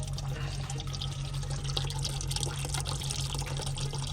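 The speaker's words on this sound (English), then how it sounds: "Got to drain out the coolant" Coolant drains from a CAT C7 diesel engine in a motorhome, a steady continuous rush and splatter of liquid pouring into a container, close and fairly loud with a low hum underneath.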